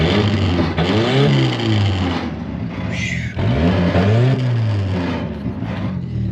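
A Fox Body Mustang engine revs up hard twice inside a barn, each throttle blip rising and falling in a loud, close sweep, with a brief high whine between the pulls.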